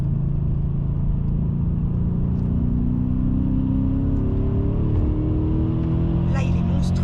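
Inside a BMW M5 E39, the engine drones loudly and climbs in pitch under acceleration, dipping briefly at a gear change before rising again, with a constant deep cabin rumble and voices speaking over it.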